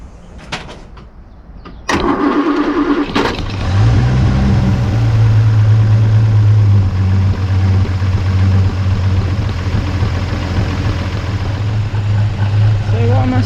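After a few clicks, a Rover P4's engine cranks and catches, then settles into a steady, low, even idle that runs on, with speech heard faintly in the background.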